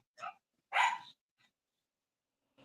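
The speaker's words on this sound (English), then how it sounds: "Sorry for the barking." A dog barks twice in short, sharp bursts indoors, the second bark louder and longer, followed by a faint yip and the start of another bark at the end, with no talking over it.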